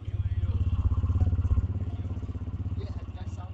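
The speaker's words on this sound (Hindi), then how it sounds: "ये एग्जॉस्ट साउंड है और यहाँ से आप इंजन साउंड सुन सकते हैं।" A 2022 TVS Radeon motorcycle idles with a steady, rapid low thump from the exhaust, close and loud, the pulse softening slightly toward the end while someone speaks over it.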